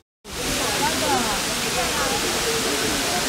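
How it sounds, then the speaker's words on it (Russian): A steady, roaring rush of a large mountain waterfall at Machakhela in Adjara, Georgia, starts abruptly and continues at full strength, close and loud, with no breaks. "И вот мы подходим к самому водопаду."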